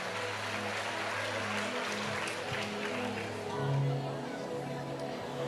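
A church congregation applauds for a pastor, steady clapping blended with crowd murmur at moderate distance while a voice speaks over it.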